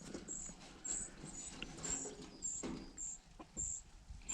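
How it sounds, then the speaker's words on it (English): Birds calling outdoors near a turkey pen on a farm, a faint series of short, high chirps repeating at a steady rhythm over quiet background rustle. "but I can hear birds."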